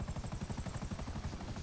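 Helicopter rotor from the game GTA V, a steady fast low chopping pulse, moderately loud and continuous, with no talk over it.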